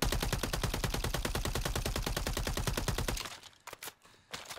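Rapid automatic gunfire in Call of Duty Warzone on Rebirth, a long evenly spaced burst of close shots that stops abruptly, followed by a few scattered quieter pops and clicks.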